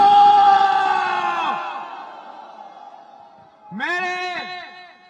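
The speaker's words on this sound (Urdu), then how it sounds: "نعرے بھٹو!" A crowd of party workers at a Bilawal Bhutto Zardari rally in Larkana chants a slogan loudly in unison, the voices swelling, fading, then rising again in a second burst.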